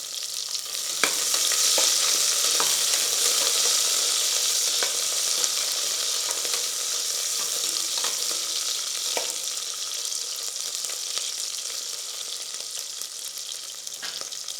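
Dried red chilies fry in hot oil for millet sambar rice, a loud continuous hissing sizzle that holds steady throughout, with occasional light stirring taps.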